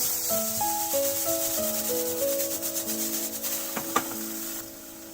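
Chopped onion, corn and capsicum sizzle and get tossed in butter in a pan, a soft hiss and rubbing scrape running under louder background music.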